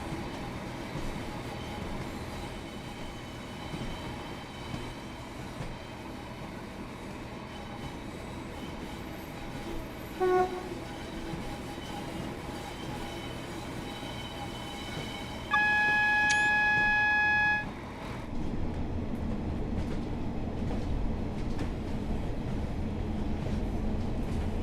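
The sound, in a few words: train running in the video game Train Sim World 4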